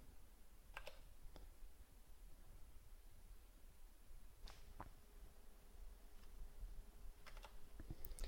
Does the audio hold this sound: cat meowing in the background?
no